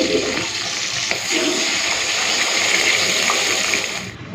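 Mustard paste mixed into water is poured into a pan for cooking small fish pieces with the head, giving a steady, continuous gushing pour of liquid that runs close and loud for about four seconds with no talking.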